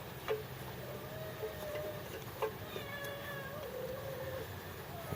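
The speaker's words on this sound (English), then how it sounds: "Cat's meowing at her kittens." A mother cat meows repeatedly at her kittens, several drawn-out calls of medium loudness over a steady background hum in a garage setting, with no talking.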